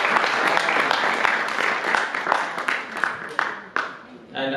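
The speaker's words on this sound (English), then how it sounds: "So we should also give applause to Krishna." Devotees at a kirtan gathering clap in applause for the singer, a lively spread of hands with some sharper individual claps standing out, thinning toward the end as the clapping tapers off.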